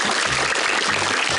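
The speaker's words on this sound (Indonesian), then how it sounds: "Kasih tepuk tangan dulu." A studio audience on a Ramadan charity quiz show applauds, a brief burst of continuous loud clapping with music pulsing underneath.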